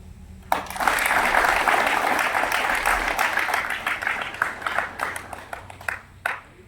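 Audience applause in a hall, a dense burst of many hands clapping at once that holds steady and then thins out into scattered individual claps.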